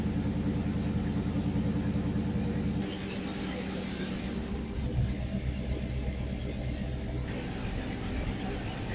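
A junkyard LS engine run on a Holley TerminatorX Max idles with a steady, low rumbling burble just after start-up, loud and continuous, with a slight shift in tone partway through.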